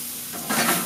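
Asparagus sizzles loudly in a hot pan as it is flamed and then steamed, a steady frying hiss that swells sharply about halfway through and stays loud to the end.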